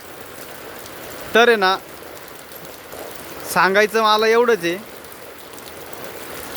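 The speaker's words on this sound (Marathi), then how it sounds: "वरून एवढा पाऊस चालू आहे" Heavy rain falls steadily outdoors where calves are kept, a constant close hiss running underneath as someone speaks in two short bursts over it.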